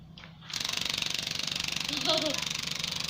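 A repaired electric fan motor is switched on for a test run, its steady pulsing whir starting abruptly after a brief quiet moment and running loud and close for several seconds.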